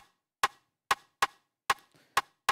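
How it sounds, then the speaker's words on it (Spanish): A sampled snare-and-stick drum loop for dancehall-style urban music: six sharp, dry clicky hits in a syncopated pattern, with a softer ghost tap between the last few, close and clear. "como una caja y"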